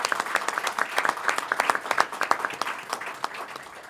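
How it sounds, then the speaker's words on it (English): A modest audience applauds at a government event, the clapping thinner and more uneven, with individual claps audible and the sound tapering slightly toward the end. "Let's give him a round of applause."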